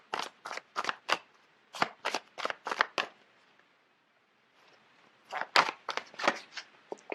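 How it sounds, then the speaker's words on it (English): Tarot cards being shuffled and handled from a deck, a close series of crisp papery riffles and flicks in two bursts separated by a brief quiet pause, with no talking. "let me just pull out a card"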